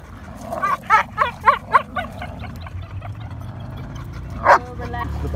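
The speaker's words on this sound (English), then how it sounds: "The barking that's going on here." A dog barks in a quick run of five or six sharp, close barks, then falls quiet before one more loud bark near the end, over a low steady hum.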